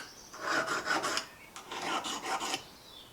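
A kitchen knife's serrations are sharpened on a diamond-coated rod, giving two quick bursts of close, gritty rasping strokes separated by a short pause.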